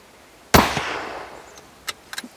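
A hunting rifle fires once in a forest in the Sauerland, a sharp loud crack with a long rolling echo fading through the trees, followed by a few faint clicks and rustles.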